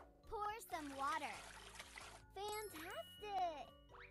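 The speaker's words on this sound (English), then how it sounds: "Pour some water!" Water pours into a cup in a cartoon about making fruit juice, a bright trickling splash lasting a couple of seconds under a voice and a light musical tinkle.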